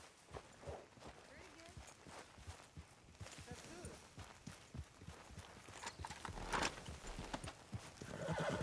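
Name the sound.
horse hooves walking in Red Dead Redemption 2 video game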